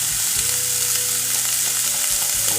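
Small chapila fish and eggplant curry with turmeric sizzling hard in a pan, a loud, dense, continuous frying hiss close up, with faint stirring underneath and no voices.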